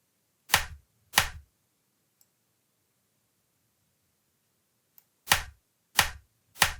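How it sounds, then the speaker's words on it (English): A recorded hand clap sample triggered in the BandLab sampler: five sharp, crisp, isolated claps, two close together near the start and three more after a long silent gap, each decaying quickly into dead quiet. "I'm just going to record a clap."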